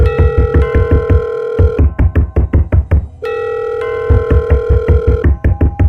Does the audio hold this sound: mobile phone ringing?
yes